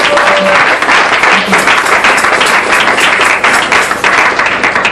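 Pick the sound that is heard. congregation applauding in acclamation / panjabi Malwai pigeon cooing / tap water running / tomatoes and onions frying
congregation applauding in acclamation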